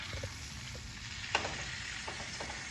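Steaks searing with jarred garlic and butter on a Blazing Bull Schwank infrared grill give off a steady broadband sizzle, with one sharp crackle near the middle and softer pops scattered throughout, no voices.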